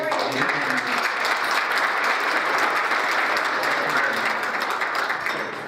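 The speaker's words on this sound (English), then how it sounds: "Let's hold your applause until I finish the meeting." Sustained applause from an audience at a dinner event honoring a former Secretary of the Navy, dense and steady throughout with faint crowd murmur beneath.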